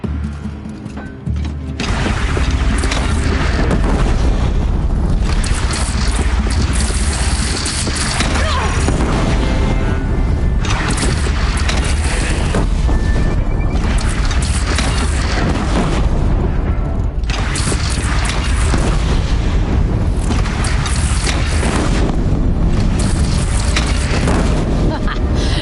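Cannon fire in the video game Horizon, loud, continuous booming blasts and crashes filling the scene, mixed with battle noise and voices.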